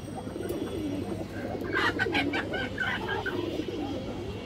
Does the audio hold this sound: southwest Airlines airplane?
no